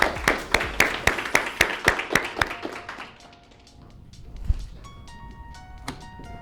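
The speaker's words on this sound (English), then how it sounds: "Please clap it up for yourselves." A workshop audience claps in a burst of sharp, closely spaced hand claps that thin out after about three seconds, followed by quieter room noise and scattered taps.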